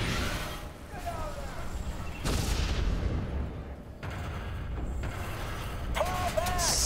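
Rocket launches and explosions in the shooter game F.E.A.R. 3, with heavy booming blasts rumbling through the whole stretch, sharp bursts around the middle and a whooshing streak near the end.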